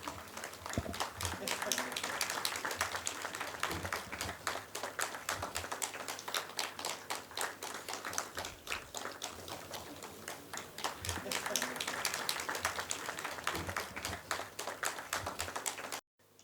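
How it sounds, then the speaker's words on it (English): A crowd at a civil aviation official visit applauds Captain Temia with fast, crisp, densely packed claps that continue for some sixteen seconds, swelling and easing slightly before stopping abruptly. "Let's give him a huge round of applause."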